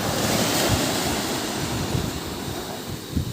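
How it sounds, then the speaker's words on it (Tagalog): Ocean surf rushes and washes steadily, close by, mixed with gusty wind buffeting the microphone; no voices. "kita mo yung alon dito"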